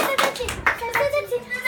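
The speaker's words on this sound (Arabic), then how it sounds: "ممتاز، صفقوا عليا." Schoolchildren in a Moroccan primary school classroom in Taza clap for a classmate during a writing lesson, a dense burst of many small hands rising and falling over about two seconds, with young voices mixed in.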